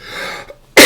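A single loud, abrupt cough bursts out close to the mic at the very end, after a quiet stretch of faint murmuring from a man struggling not to cough.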